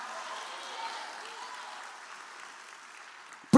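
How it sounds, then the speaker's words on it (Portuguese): A church congregation at a family worship service applauds, a steady wash of clapping that continues evenly and then ends with a sudden loud knock. "Dê um aplauso a Ele bem forte,"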